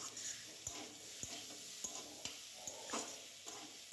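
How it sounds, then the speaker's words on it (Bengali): Cauliflower and potatoes with spices and a splash of hot water being stirred in a pan, a soft low sizzle under a series of light, regular taps and scrapes of the spoon. "ভালো করে নেড়ে চেড়ে নিচ্ছি"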